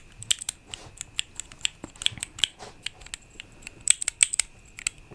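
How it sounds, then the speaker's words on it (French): Fingers tap quickly on a very small keyboard for ASMR, crisp close-up plastic clicks in irregular bursts with short pauses, alone without talking. "Moi je tape très vite sur un clavier, mais là c'est très petit"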